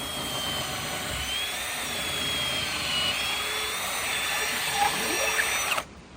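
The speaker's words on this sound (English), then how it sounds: "I just need to drill a hole all the way through" A power drill fitted with a large bit bores a hole during an off-grid upgrade build, a loud, steady whine held for nearly six seconds before cutting off abruptly.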